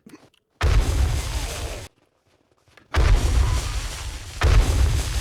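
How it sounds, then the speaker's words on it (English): Two heavy booms from a landmine blast in the zombie survival game 7 Days to Die, each a loud sustained explosive roar separated by a moment of silence. "he was on a landmine just as I hit him"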